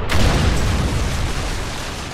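A Predator missile strike explodes in Call of Duty: MW3, a heavy, booming blast up close that rumbles deep and loud, then slowly fades into a lingering roar.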